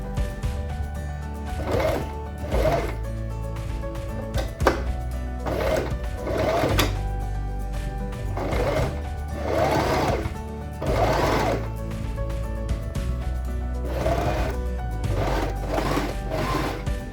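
A sewing machine stitches a seam down the side of a cushion cover, its steady mechanical whirr running in repeated bursts with short pauses between runs, close and clear with no talking.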